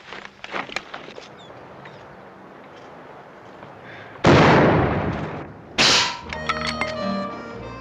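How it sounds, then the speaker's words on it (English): Rifle shots ring out in an old Western gunfight, two loud sharp blasts a second or so apart with echoing tails, followed by metallic clatter and movement, over a low background murmur. "Mighty fine shooting, Paul."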